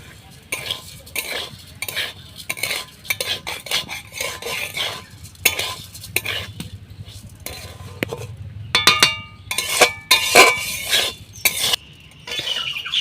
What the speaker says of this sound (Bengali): অনেকটা ঝরঝরে করে নিয়েছি খুন্তি দিয়ে নাড়িয়ে